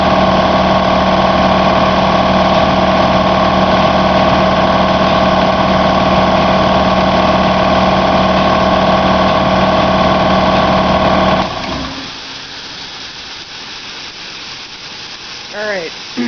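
Home air compressor motor started cold and running up to pressure, a loud steady mechanical hum that carries for about eleven seconds and then cuts off, leaving quiet.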